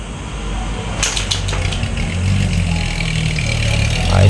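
Engine of a 4x4 vehicle after brake repair, idling and then pulling away on a test drive, with a clunk at the start and a rumble that builds and swells louder toward the end.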